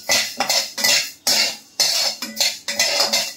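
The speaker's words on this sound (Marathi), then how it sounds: "ही पण अर्धी वाटी उडदाची डाळ, ती पण आपल्याला छान भाजून घ्यायची" Half a bowl of urad dal dry-roasting in a pan over low gas, stirred in repeated scraping, rattling bursts about every half second, loud and close with no talk.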